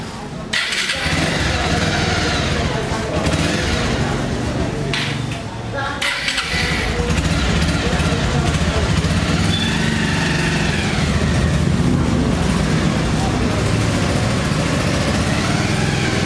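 A motorcycle engine running close by, a loud, steady rumble that holds after a brief start, with people talking over it.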